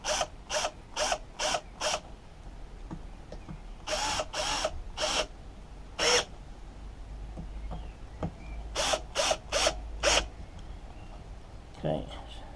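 A ratchet tightens bolts on a Ryobi leaf blower, giving short bursts of quick clicking strokes in groups, close and crisp, separated by quiet gaps with faint handling noise.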